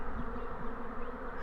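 A swarm of western honeybees, Apis mellifera, settling on leaves makes a dense, loud, continuous hum close by, with individual bees whining past in a constant drone.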